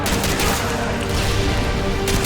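Gunfire in the video game Call of Duty: Modern Warfare 2: a dense, loud burst of rapid automatic shots that keeps pounding with little pause, with no voices over it.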